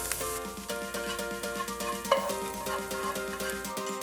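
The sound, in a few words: carrots being stir-fried until softened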